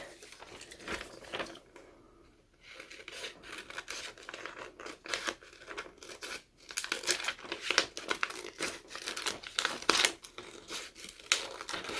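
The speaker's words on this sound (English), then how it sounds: "So I just trim really close to the design." Scissors trimming heat-transfer iron-on vinyl tightly around a cut design for a towel project: close, crinkly snips and rustling plastic crackles in irregular bursts, with no talking.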